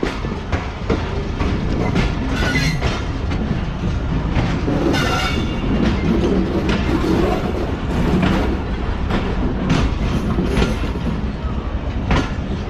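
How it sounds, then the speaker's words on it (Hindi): Pak Business Express passenger train running from Bahawalpur to Karachi as it switches tracks toward the main line, a loud steady rumble with rhythmic clattering over rail joints heard from on board. "तो ट्रेन ट्रैक चेंज करते हुए मेन लाइन की तरफ बढ़ रही है।"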